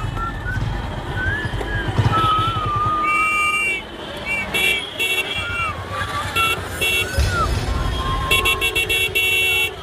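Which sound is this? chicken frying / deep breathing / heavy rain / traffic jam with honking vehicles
traffic jam with honking vehicles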